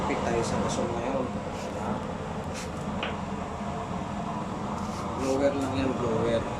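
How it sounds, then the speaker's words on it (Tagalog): An electric blower whooshes with a steady, even hum while a person talks nearby. "Blower lang yan, blower."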